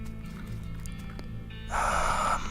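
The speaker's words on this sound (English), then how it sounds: "You hear sounds of several goblins snoring inside the tent." Several goblins snoring inside a tent in the video game West of Loathing: a rough, breathy snorting rasp rises for under a second over a steady low background hum, moderately loud.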